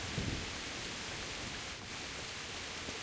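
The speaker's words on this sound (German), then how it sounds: "Und jetzt müssen wir auch noch raus in den Regen." Steady rain falls in the medieval video game Kingdom Come: Deliverance, a constant even hiss that runs unbroken throughout with no voices.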